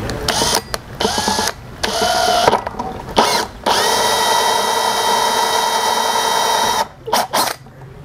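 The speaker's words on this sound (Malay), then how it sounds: "saya akan gunakan hole saw size 20mm" A power drill with a 20mm hole saw cuts a hole for an aquaponics gutter setup, whirring loudly in several short bursts and then one long steady grinding run before stopping.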